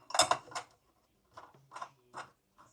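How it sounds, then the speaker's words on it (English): A short bolt and washer are screwed down into the center hole of a shower chair, heard as a few close, sharp metallic clicks and ratcheting turns in separate bursts with short pauses between them. "With the short bolt and washer, place into the center hole and screw down."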